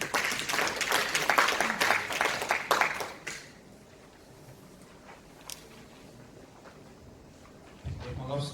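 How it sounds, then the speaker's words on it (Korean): At a Hwaseong citizens' regional meeting in Dongtan, the audience applauds the next presenter with a burst of loud, dense clapping that stops abruptly after about three seconds, leaving quiet room noise before a voice begins. "큰 박수 부탁드립니다."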